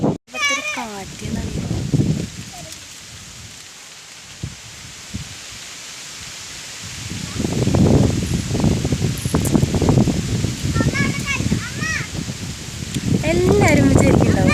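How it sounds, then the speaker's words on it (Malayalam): Wind moves through a banyan tree on a hillside temple ground, its leaves rustling in swelling broadband gusts that grow louder in the second half, mixed with people talking close by. "കാറ്റ്"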